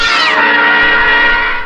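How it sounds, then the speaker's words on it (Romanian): Cats meow loudly and continuously, a high, drawn-out wail that slides down in pitch before settling into a sustained cry. "fii atent ce proaste-s pisicile astea"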